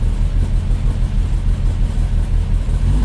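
A Suzuki SX4 rally car engine runs loud and close, a rough low pulsing drone with rhythmic throbbing and no talk over it.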